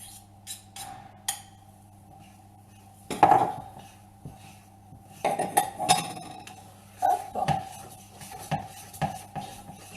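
Mixing savory cannelé batter with herbs and grated gruyère in a bowl: a utensil clinks and scrapes against the dish in short irregular bursts, close and fairly quiet, with no talking.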